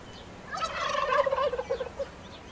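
A domestic turkey gobbles in one rapid, warbling burst of about one and a half seconds, fairly close and clear against a quiet background.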